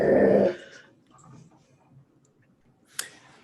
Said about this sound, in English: And she will growl for a bit